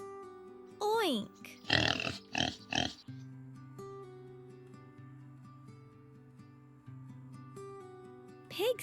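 A pig grunts and oinks in a short burst of several snorting calls, close and clear, over soft background music with a brief voiced tone at the start and end.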